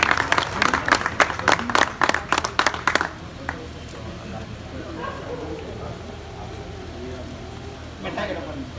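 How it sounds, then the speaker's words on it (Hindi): A crowd claps loudly in dense bursts for the first three seconds at a rasam pagdi turban ceremony for a music ustad, then fades to low murmur, with a brief clapping swell near the end. "जोरदार ताली बजा दीजिए"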